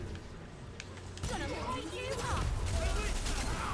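Harrier fires crackling, warbling energy bursts in LawBreakers, streaming continuously after a sharp onset amid other weapon fire, with a player talking over the mix.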